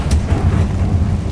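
In Hogwarts Legacy, a Confringo spell explosion lands as a loud, low, rumbling boom that fills the whole short moment.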